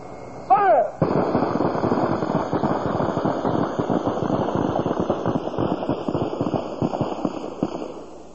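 Rifles fire in a dense, rapid volley at an outdoor training camp, crackling continuously for several seconds after a single shouted command, loud and close.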